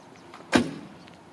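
A 1927 Ford Lakes Modified roadster door swings open with a single sharp latch click and a short mechanical clunk, close and fairly loud, fading quickly into a quiet background.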